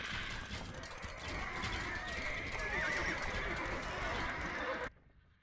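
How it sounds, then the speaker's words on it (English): A mass of hussar cavalry gallops in a real-time strategy game, with dense, continuous hoofbeats and whinnies mixed with mechanical clatter, loud and steady until it cuts off abruptly near the end. "So many horses."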